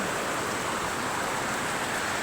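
Heavy rain pours down in a steady, dense hiss that stays loud and unbroken with no voices over it.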